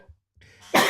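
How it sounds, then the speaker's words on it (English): A single short, close cough bursts out at the end, preceded by a faint throat sound, in an otherwise quiet room. "I'm coughing already."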